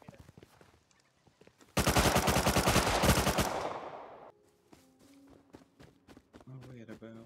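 Gunfire in the video game Rust, a loud sustained burst of rapid automatic shots lasting about two seconds and trailing off, set among footsteps and someone talking over game audio.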